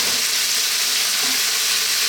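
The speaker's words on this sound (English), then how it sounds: "throw this around in the pan. Stir frying it for about 3 or 4 minutes." Beef with chopped garlic, ginger and sliced onions stir-frying over high heat in a pan, a loud continuous sizzle with no talking.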